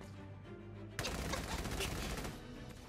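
A gunfire barrage in the war game Valkyria Chronicles 4 starts abruptly after a quiet second and continues as a dense, loud wash of rapid shots until the end.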